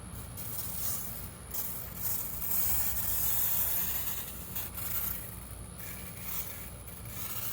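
A water spray rinses a bicycle outdoors, making a continuous hissing wash that swells and eases as the stream moves across the frame. It sits close and fairly loud, with no voices.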